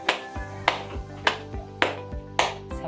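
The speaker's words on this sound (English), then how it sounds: "Let's also give them 5 claps." A classroom of students claps in unison, five sharp rhythmic claps evenly spaced and fairly close, with a low hum between them and no talking.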